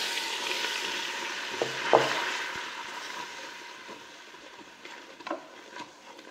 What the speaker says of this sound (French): Et vous venez ajouter la totalité de la farine et vous remuez énergiquement pour faire un roux.